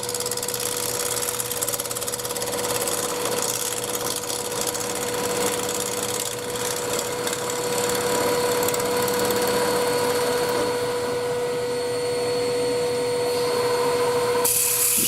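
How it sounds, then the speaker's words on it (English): Iroko wood turning on a lathe with a 3/8 ball gouge while cleaning up one face of a blank mounted on a faceplate: a steady, loud, continuous whirring and scraping hum that holds throughout with no talking. "I'm just cleaning up the one face of it. Using a 3/8 ball gouge."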